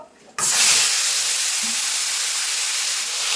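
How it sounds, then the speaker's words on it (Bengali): Potatoes coated in salt and turmeric hit hot oil with a loud burst of hissing sizzle after a brief quiet moment, then fry steadily and close up, a dense continuous crackle with no talk. "ওই তেলের ভিতর আমি এই আলু লবণ হলুদ মাখিয়ে রেখেছি আলুটা ভেজে নেবো"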